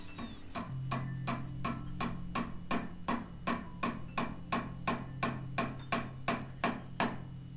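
Steady metallic hammer taps drive a pin back into an Umarex 850 Airmagnum CO2 air rifle, using a screw as a punch to spare the stock; about sixteen evenly spaced, close-up strikes over a low continuous hum.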